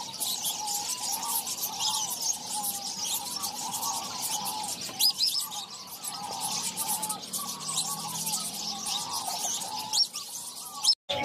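A pair of pure white doves in a bird-selling setting, with soft repeated cooing and chirps from nearby birds running steadily throughout, and no talking.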